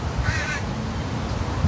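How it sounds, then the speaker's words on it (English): A single harsh crow caw rings out briefly near the start, moderately close, against a steady outdoor background of low rumble and wind. "There's a crow. There's a raven."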